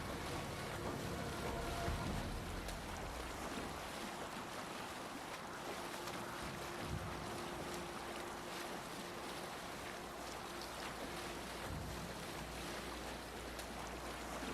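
Viking longship sailing on the open sea in Assassin's Creed Valhalla, a continuous wash of waves and wind against the hull with a low steady rumble, unbroken throughout.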